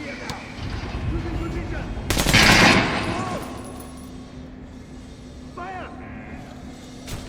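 Kalash assault rifle fired in Metro: Last Light Redux, a loud burst of shots landing in the middle of steady gameplay ambience, with someone talking over the scene.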